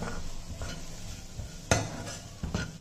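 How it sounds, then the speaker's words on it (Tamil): Utensil scraping and clinking against a pan as vegetables are sautéed and stirred, with a soft background sizzle and a few sharper knocks. "இதையும் நல்லா வதக்கிக்கிடுவோம்."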